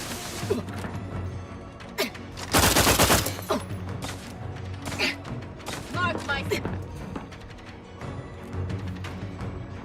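Gunfire in a shootout in the video game The Outer Worlds 2: a loud burst of rapid shots near the middle, with scattered impacts and thuds throughout, and a voice talking over the fight.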